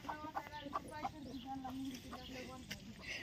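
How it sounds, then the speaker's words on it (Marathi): Farmyard hens clucking faintly in short, scattered bursts during morning chores on a rural homestead, quiet and a little distant, with people talking nearby. "परत कोंबड्या काव काव काव करतात"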